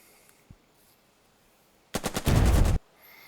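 Gunfire at a tank in the WWII tactics game Burden of Command: after a faint click, a short burst of rapid machine-gun shots rattles out, then runs into a sustained loud roar of fire before cutting off abruptly.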